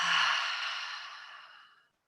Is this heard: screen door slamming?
no